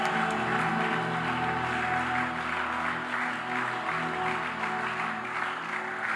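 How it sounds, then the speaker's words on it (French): A church congregation cheers and applauds for God, a dense, continuous wash of clapping and voices filling the room, loud and sustained throughout, with a sustained musical tone underneath. "Est-ce que quelqu'un peut acclamer très fort pour notre Dieu?"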